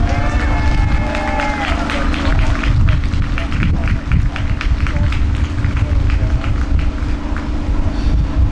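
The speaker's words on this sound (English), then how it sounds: "Give Luis a round of applause." Outdoor crowd applause at an anti geo-engineering rally at Hyde Park/Marble Arch in London, steady dense clapping sustained throughout with cheering voices and chatter mixed in, busy and close.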